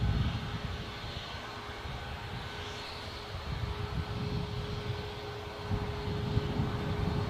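A passenger jet departing Newcastle Airport bound for Hurghada gives a steady, distant low engine roar that swells slightly toward the end, with faint outdoor background and no talk.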